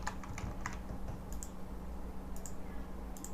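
Steady typing on a keyboard, a run of light, quick clicks with brief pauses, close by over a low constant hum.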